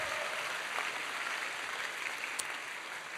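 Audience applause at a summer camp lecture, steady dense clapping from a large crowd throughout, fairly distant and even in level.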